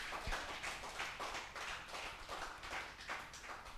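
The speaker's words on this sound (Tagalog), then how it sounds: "Bigyan naman po natin siya ng isang malakas na palakpak." A church congregation at a Sunday worship service claps together in a soft, fairly distant, rhythmic patter, with no voices above it.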